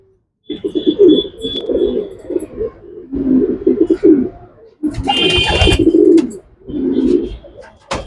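Pigeons kept for sale at a breeder's loft in Uruli Kanchan coo close by, in repeated throaty bursts of low rolling calls separated by short gaps, with a faint higher chirp now and then.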